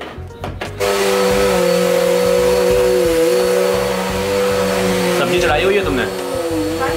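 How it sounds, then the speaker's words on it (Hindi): A powerful household vacuum cleaner runs loud and steady throughout, starting with a clunk and holding a strong whine, while people talk over it. "हम लोग ट्राई कर रहे हैं अपना घर क्लीन करने का, और ये बड़ा तगड़ा ही वैक्यूम क्लीनर है"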